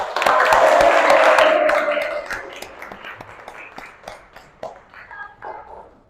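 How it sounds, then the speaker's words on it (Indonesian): A classroom of students claps for a pupil, a dense burst that peaks early and then thins into scattered claps and murmuring voices over several seconds. "kita beri tepuk tangan untuk Musdalifah"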